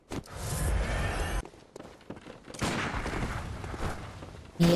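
Gunfire rings out during a boss fight in Bloodborne: a few loud, sharp shots and bursts are separated by quieter gaps, with scuffling movement between them.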